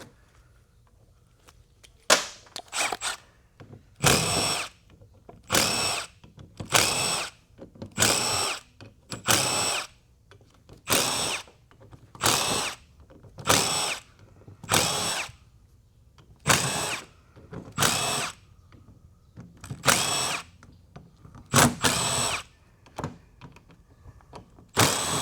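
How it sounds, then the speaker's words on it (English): Power drill backing screws of mixed lengths out of a used machine, about fifteen short loud whirring bursts in an uneven rhythm, each separated by brief quiet pauses, close up and without talk. "You got to be careful on taking screws out of these things because some are short and some are long"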